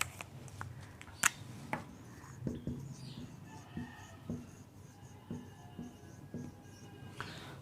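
A pen scratches out a trigonometry formula for an 11th-class math exercise, quiet close strokes and taps scattered irregularly over a soft background without speech.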